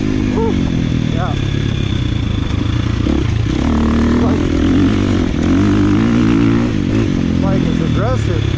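A KTM 450 EXC dirt bike fitted with an aftermarket power bundle is ridden, its engine droning loud and close throughout with shifting revs and wind buffeting, while a rider's voice talks over it.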